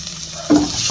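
Garlic sautéing in cooking oil, a short burst of close hissing sizzle that jumps louder partway through.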